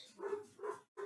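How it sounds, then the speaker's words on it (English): Several dogs bark in the background, coming as a few short bursts with a brief gap between them, moderately close and fairly quiet. "I am so sorry about the dogs in the background."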